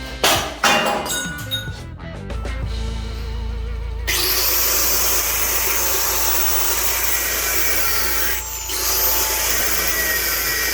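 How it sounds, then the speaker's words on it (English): A grinder cuts away the seized outer sleeve of a wheel bearing on a Fiat Punto GT Turbo hub, a loud continuous harsh whine after a few metallic clanks, dipping briefly near the end before resuming. "now I'm just grinding off the outer sleeve for the bearing"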